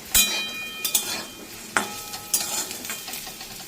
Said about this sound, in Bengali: দেখো বন্ধুরা, এটা ভাজা ভাজা হয়ে গেছে